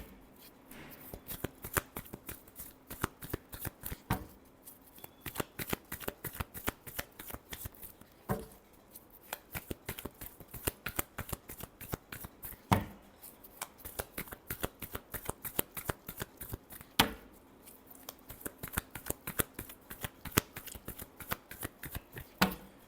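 Tarot cards being shuffled by hand in a steady, rapid run of crisp riffling snaps and soft slaps, close and continuous with brief pauses between bursts, no talking.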